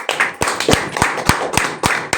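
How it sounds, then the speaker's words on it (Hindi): An audience claps for RCM at a marketing-plan meeting: a sparse, loosely timed run of about eight sharp, close claps over roughly two seconds, with no voice over them. "बजा लो एक बार आरसीएम के लिए तालियां"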